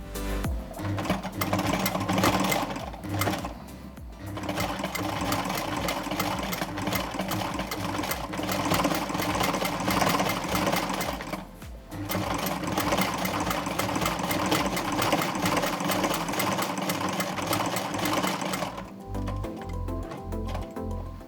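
Domestic sewing machine embroidering a five-petal flower, a loud, close, continuous mechanical whirring with rapid needle rhythm, pausing briefly twice before running on again.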